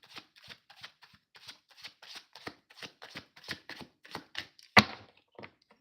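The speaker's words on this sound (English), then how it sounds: "I'm going to finish my shuffle out." A deck of tarot cards shuffled by hand in a steady series of soft riffling bursts, close and clear, with one sharper knock near the end as the deck is tapped together.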